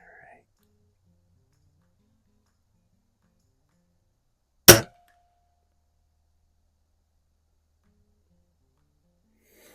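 A Weihrauch HW77K spring air rifle with a 3-9 scope fires a Crosman Premier hollow point pellet at 50 yards, one sharp, loud crack standing alone in near silence.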